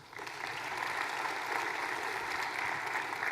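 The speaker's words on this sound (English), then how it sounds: "applaud if you were happy to see that calendar work" Steady, dense applause from a conference audience at a Microsoft Ignite 2016 session on Outlook, building quickly and holding a full wash of clapping throughout with no talk over it.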